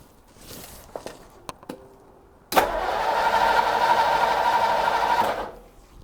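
A Ford Thunderbird Y-block V8 with the coil disconnected cranks over on its starter for about three seconds, a loud, steady whirring churn with rhythmic compression pulses, preceded by a few faint clicks and quiet handling noises.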